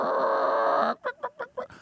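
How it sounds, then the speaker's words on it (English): A chicken gives a burst of steady squawking, then four quick rhythmic clucks, close and clear with no talking. "oh, look at the chicken"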